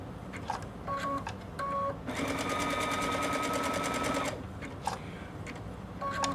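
A sewing machine satin stitching an appliqué runs in short bursts and then one long steady whirring run, with brief pauses between stitches, close and clear.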